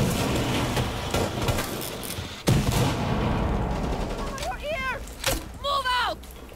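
Gunfire in a Rainbow Six Siege match, with dense sharp reports and a loud crack in the middle, followed by shorter bursts, under players talking over voice chat.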